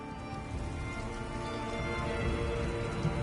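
A rainstorm in The Elder Scrolls Online, a dense, steady patter of rain hissing continuously at moderate volume for a few seconds with no voices.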